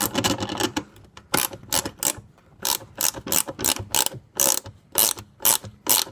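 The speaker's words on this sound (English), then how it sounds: "now that I got my ratchet wrench, take it, kind of thread it up in there" A ratchet wrench backs off a tail light nut on a Bruin. It makes close, crisp bursts of rapid clicking in a steady back-and-forth rhythm, with short pauses between strokes.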